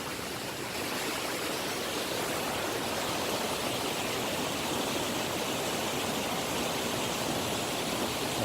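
A waterfall in South Wales roars as a broad, steady rush of falling water, heard close from near its base, loud and unbroken throughout.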